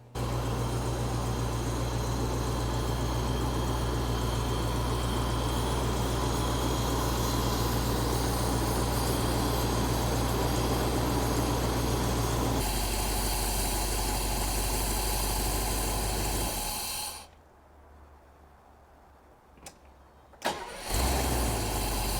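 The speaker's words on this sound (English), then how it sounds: "Now that's the way a D-Jet should start." A 50-year-old Mercedes D-Jetronic V8 engine cranks and catches, then settles into a steady, loud idle for many seconds before cutting off abruptly; a brief sputter follows near the end.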